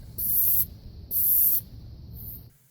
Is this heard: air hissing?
yes